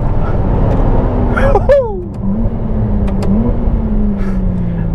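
A Ferrari 296 GTS V6 engine drops in pitch through quick gear changes, with sharp crackling pops and blips as it downshifts, close and fairly loud.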